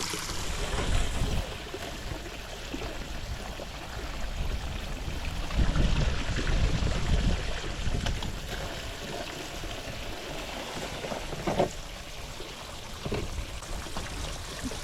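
Dirt and sand sloshed and agitated in water in a pan while fossicking for tin, a continuous watery swishing with louder surges, with no talking.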